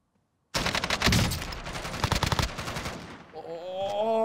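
Rapid automatic gunfire in the video game Warzone, a loud burst of closely spaced shots after a brief silence, tapering into scattered shots, then a tonal game sound at the end.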